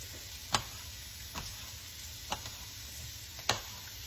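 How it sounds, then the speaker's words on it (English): Onion and jalapeno fry in a pan, giving a faint, soft sizzle. A spoon stirs and scrapes at a few irregular moments, making four distinct clicks and taps over quiet background noise, with no talking. "we're just gonna kind of stir up this onion and jalapeno"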